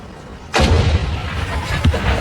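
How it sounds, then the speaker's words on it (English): Edinburgh Castle's one o'clock cannon fires once, a single loud boom that cracks out after a brief quiet and then rolls away in a long rumbling echo. "every day a cannon is fired at 1 o'clock"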